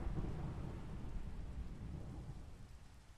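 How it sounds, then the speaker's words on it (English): A Minecraft thunderstorm with lightning, a low rolling rumble of thunder over steady rain hiss, fairly quiet and slowly fading, with no talking. "Wow, lightning's going crazy."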